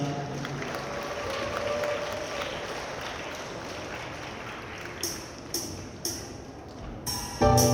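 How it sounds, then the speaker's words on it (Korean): Guests at a wedding applaud after a sweet, playful song for the bride and groom, a steady mid-level wash of clapping from a crowd, with a few sharper knocks and a louder burst near the end. "큰 박수 부탁드리겠습니다"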